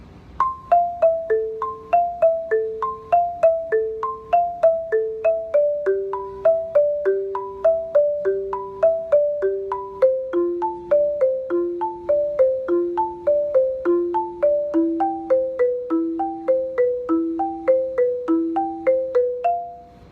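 A marimba plays a descending four-note pattern that repeats steadily for twenty seconds, each group stepping down from the top with crisp, evenly spaced mallet strikes and a short ring on every bar, with no voice.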